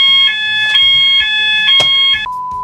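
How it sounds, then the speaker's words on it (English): A loud fire alarm goes off indoors, sounding in repeated shrill electronic bursts with short gaps between them, heard close and with no voices. "fire alarm again."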